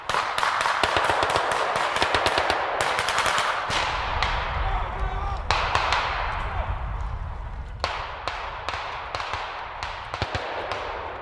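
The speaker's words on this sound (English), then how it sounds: "now there are some armed men now coming out of the vehicle and firing towards the Rapid Reaction Force" Gunfire from armed men firing toward a rapid reaction force in a military exercise crackles as rapid automatic bursts and sharp single shots, loud and sustained, with a low rumble underneath.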